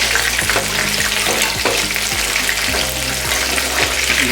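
Chicken pakoda deep frying in hot oil, a dense, continuous crackling sizzle that stays loud and close for several seconds, with occasional stirring knocks and no talking.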